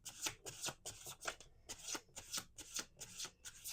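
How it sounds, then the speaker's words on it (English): Tarot cards being shuffled at close range, a steady run of quick riffling bursts about twice a second with short gaps, fairly quiet and with no talking. "Last shuffle."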